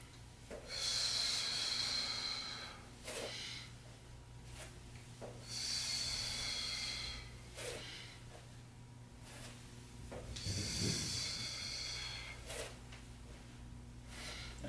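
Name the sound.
exhaling during lateral lunge exercise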